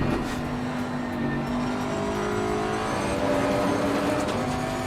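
A Bentley GTC race car in the Assetto Corsa racing game at the Hungaroring, its engine droning loudly and continuously with rising and shifting revs, no voices.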